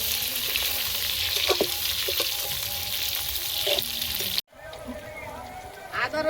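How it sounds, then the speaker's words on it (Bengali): Brinjal added to fried potatoes in a hot pan, a loud continuous sizzle with scraping stirs, cut off abruptly by a brief gap and then a quieter sizzle; a voice speaks over it. "বেগুনটা দিয়ে আর একটু ভেজে নেব।"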